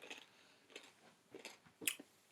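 Crunchy pork scratching is being chewed close up. About five quiet, crisp crunching bites come at irregular intervals, and the last one is the sharpest.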